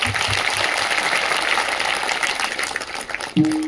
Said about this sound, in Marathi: अशी सेवा देणाऱ्या सेवेकऱ्यांसाठी एकदा मोकळ्या मनाने टाळी वाजवा